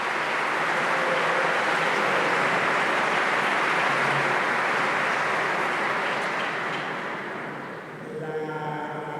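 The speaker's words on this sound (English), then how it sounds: "I ask for a round of applause for their work" Audience at the FC Barcelona ordinary general assembly applauding the club's workers, a dense, sustained crowd clapping filling the hall, easing slightly near the end as it tapers.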